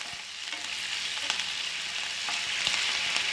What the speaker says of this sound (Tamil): இந்த தண்ணி நல்லா கொதிக்கட்டும்.